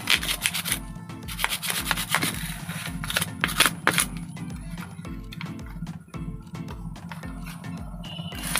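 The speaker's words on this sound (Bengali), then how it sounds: "ব্রাশ দিয়ে জাস্ট হালকা হাতে একটু ঘষে নেবেন" A brush rubs lightly over the continuity contacts inside an opened digital multimeter, giving rapid dry scratchy strokes in quick bursts close up, followed by softer intermittent scraping and small taps.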